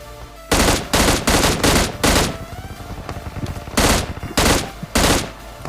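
Loud, close bursts of automatic gunfire in a battle royale video game, several rapid sprays separated by short pauses, with quieter game sounds between them and no voices.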